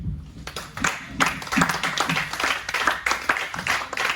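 A church congregation at a Pentecost service claps loudly and steadily in acclaim of the Lord, a dense rhythmic burst of many hands with cheering voices mixed in.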